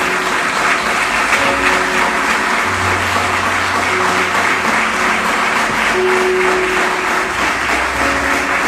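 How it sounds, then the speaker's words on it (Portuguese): A church congregation claps loudly and steadily throughout, a sustained wash of hands with faint music or voices murmuring underneath. "Aplauda bem forte o Senhor Jesus."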